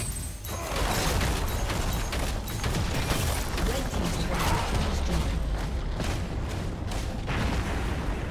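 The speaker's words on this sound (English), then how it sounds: "Team's inhibitor has been destroyed." A League of Legends match in which an inhibitor is destroyed, heard as dense rumbling booms, blasts and clanking impacts at steady high loudness throughout, with an announcer-style voice over the game sounds.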